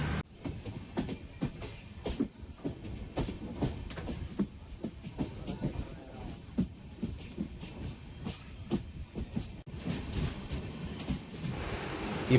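A train on the Konkan Railway in Maharashtra runs through a long tunnel, giving a quiet, enclosed rumble with a regular clickety-clack of wheels on rail joints.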